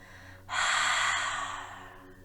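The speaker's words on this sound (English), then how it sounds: "Then slowly and gently exhale through the mouth, completely cleansing breath." A single slow, deep breath is released through the mouth, rising suddenly into a close, airy rush that gradually fades over about a second and a half in a quiet room.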